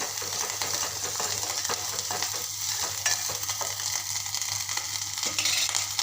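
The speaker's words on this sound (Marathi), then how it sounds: "नंतर एक बारीक चिरलेला टोमॅटो घालते त्याला पण छान असं मस्त शिजू द्यायचं" Chopped tomato and spices sauté in a pan for pathodi rassa, a steady close hiss of frying with faint stirring scrapes running throughout, no voices over it.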